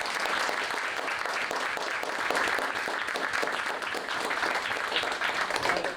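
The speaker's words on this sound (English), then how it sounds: "I think Anna deserves a round of applause" A crowd claps steadily and loudly for several seconds, dense applause with no pauses.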